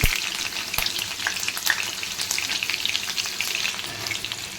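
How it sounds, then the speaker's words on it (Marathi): Mustard seeds, green chili and garlic crackle and fry in hot oil for a Maharashtrian tempering, a steady dense sizzle with sharp pops and spits scattered throughout, close and fairly loud, no voices. "लसूण जाळू नका, थोडंसं फ्राय करा."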